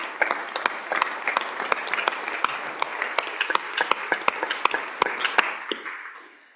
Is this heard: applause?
yes